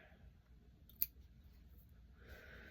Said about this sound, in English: Alright, we'll cut this string.